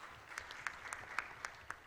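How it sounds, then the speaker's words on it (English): An audience at a high-level consultative meeting gives a faint, brief burst of clapping. The claps are scattered and distinct rather than a dense roar, heard from a distance. "I'd like to invite you to clap for them as well."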